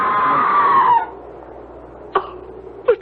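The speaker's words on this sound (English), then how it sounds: "It was a scream, wasn't it?" A single loud, high, wavering scream in a radio mystery drama fades out after about a second, followed by quieter room tone and two brief thuds or knocks.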